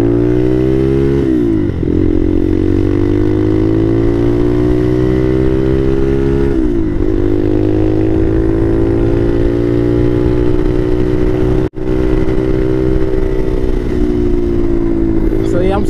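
A Bashan Motomax 250 motorcycle with a Nibbi PE30mm carburetor runs loud and close, holding a steady idle with a few brief blips of the throttle and one sharp cutout near the end.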